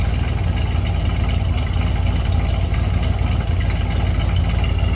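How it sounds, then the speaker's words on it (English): Steady low exhaust rumble from the big-block V8 of a 1969 Chevrolet Chevelle SS tribute, idling evenly and close by with a throaty, unbroken drone throughout. "Just a nice throaty little rumble coming out of that big block"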